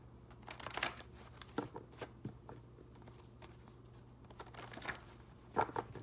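An oracle card deck is shuffled in soft, quiet bursts of riffling and card slaps, spaced out against a low background hum.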